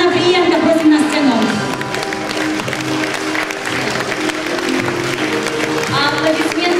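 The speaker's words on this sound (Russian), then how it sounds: "Аплодисменты группе восточного танца «Космитик Центра Монар», руководитель Наталья Анаприенко." Sustained applause from a concert audience greeting an oriental dance group taking the stage, steady and dense clapping throughout with crowd noise and a presenter's voice over it.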